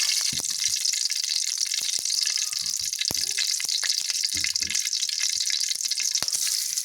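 Oil heats and sizzles in a wok for noodles, a steady broadband frying hiss throughout with occasional light clicks and scrapes, no talking.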